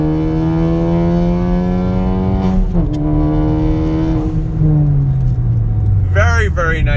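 A tuned 350 hp 2016 Ford Focus ST accelerates during a roll, its engine note a loud steady drone that climbs slowly in pitch, with a shift-like dip partway through.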